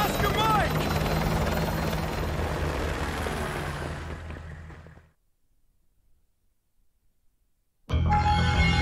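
Helicopter rotor din from Call of Duty Modern Warfare 2 Remastered on PS5, loud and broad, fading out around five seconds into near silence before a loud burst of game sound returns at the end.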